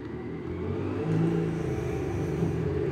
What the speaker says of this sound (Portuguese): tenho um vizinho que está com muito tempo livre e está andando de moto dentro do pátio